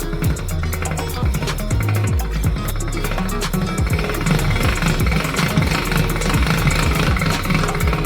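A hand-cranked pasta machine rolls lasagna dough between its rollers, giving a loud, steady, rhythmic mechanical rattle that runs throughout with no voices.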